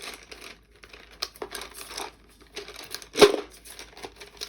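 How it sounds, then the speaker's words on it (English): Pencil crayons are dropped back into a container, giving soft scattered rattles and rustles close by with one sharper clack near the end, no voices. "Okay, get all those pencil crayons back in."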